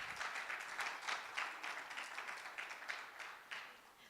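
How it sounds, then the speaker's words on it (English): An audience at a guide dog school graduation claps in a final round of applause, with fairly quiet, somewhat distant clapping that swells in small uneven pulses throughout. "Let's give them all one last round of applause."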